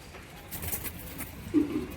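Pigeons in a loft, a short low coo rising near the end over faint rustling and shuffling, with no talking.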